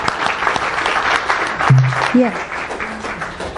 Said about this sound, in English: let's give Alexa a round of applause